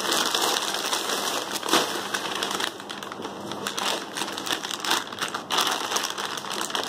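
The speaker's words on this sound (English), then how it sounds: "just let's go ahead and unpack this item" Plastic packaging crinkles and rustles close up as 883 Police slim-fit denim jeans are unpacked, with irregular crackling bursts of handling throughout.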